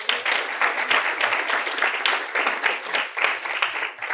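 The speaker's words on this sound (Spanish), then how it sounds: "¿qué le parece si le damos un aplauso al Señor ahí?" A church congregation applauds in praise, a steady wash of many hands clapping at moderate loudness, continuous throughout with no talk over it.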